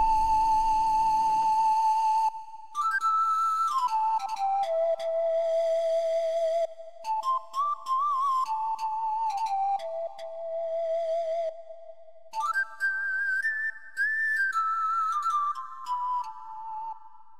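Sampled pan flute from an expensive professional instrument, playing a slow breathy melody of sustained, gliding notes with short pauses between phrases, clear and alone.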